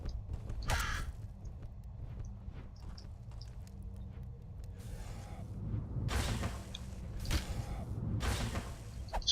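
A crow creature in the dungeon game Legend of Grimrock caws in several harsh, loud bursts spread across the stretch, over low game ambience with no talking.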